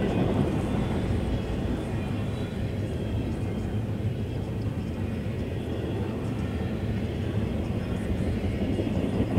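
An eastbound freight train of empty cars passes at a distance, giving a steady, broad rumble that holds throughout.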